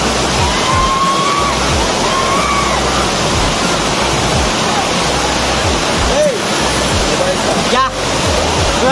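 Raikal waterfall in a Telangana village pours steadily, a dense continuous roar of falling water that fills the whole clip at close range.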